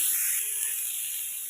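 Tomatoes hit hot oil with cashews, a bright hissing sizzle that starts strong and slowly eases over a second and a half, with no talk.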